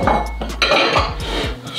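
Mince, bolognese, vegetables and rice being tipped into a large bowl, with clattering dish and utensil knocks and scraping, loud and close, several quick thuds in succession, no talking.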